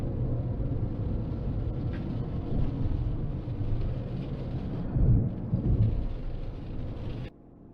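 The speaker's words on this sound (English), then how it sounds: "Oh, more rain." Rain drums on a car during a drive while deep thunder rumbles roll through, steady hiss over low booming swells that swell twice before the sound cuts off abruptly.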